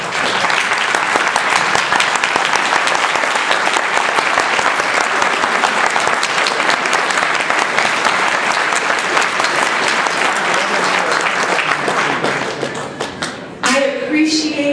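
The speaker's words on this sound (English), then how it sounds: "please stand up for a round of applause" An audience at a Nullify Now event in New Hampshire standing for a long, loud round of applause, dense steady clapping that fills the room for many seconds before thinning out near the end as a voice returns.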